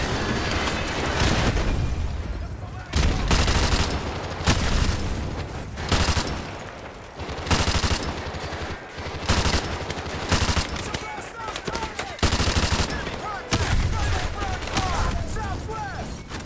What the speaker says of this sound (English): Get some vehicles exploding.